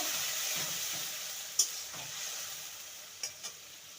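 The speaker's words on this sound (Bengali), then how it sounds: "আদা আর কাঁচা লঙ্কা বাটা ভালো করে কষিয়ে নেব" Ground ginger and green chili paste fries in a pan for a vegetarian gourd and chickpea dish, a soft even sizzle with a few sharp clicks of the spoon against the pan, no voices.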